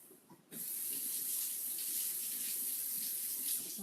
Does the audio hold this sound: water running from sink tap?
yes